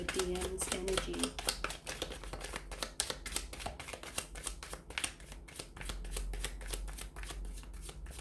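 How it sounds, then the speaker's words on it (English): A deck of tarot cards is riffled and shuffled in quick repeated flicks, crisp and close in a quiet room, after a few faint words at the start. "we'll go ahead and give the cards a shuffle"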